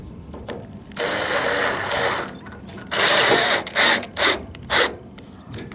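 A power screwdriver drives screws back into a rainwater collection tank, whirring in several short loud bursts of one to two seconds each, close by, with quiet gaps between them.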